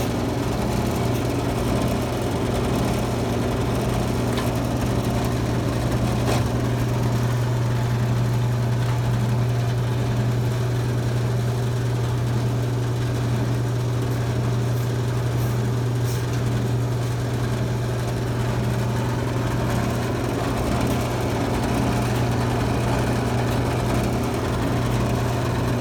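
A T50 booster pump runs under test at high pressure, giving a loud, steady, continuous mechanical drone with a strong low hum that holds unchanged throughout.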